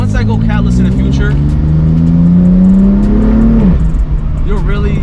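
A BMW M4 fitted with a titanium catback exhaust revs loudly up and down, a deep droning engine note climbing steadily before dropping off, close and dominant with faint voices underneath.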